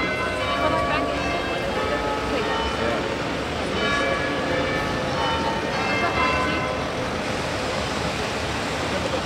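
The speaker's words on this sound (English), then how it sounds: "they will chime those bells on the stroke of 12:15" Bells of an Oxford clock chime at a quarter past twelve, a steady ringing wash of overlapping tones heard outdoors with continuous traffic-like rumble beneath, fairly loud and unbroken throughout.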